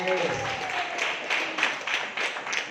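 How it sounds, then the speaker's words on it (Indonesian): Audience clapping for PTB during a marketing plan presentation, a moderate burst of applause with a voice briefly audible at the start, the claps continuing in uneven pulses. "Tepuk tangan untuk PTB"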